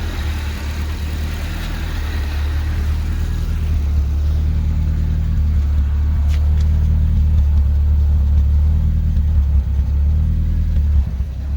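A turbocharged Honda F20C swapped into an FB Mazda RX-7, running Haltech management on E85 with 1650 injectors, idles just after start-up. Its loud, steady low rumble swells slightly with a gentle surge, and no one speaks.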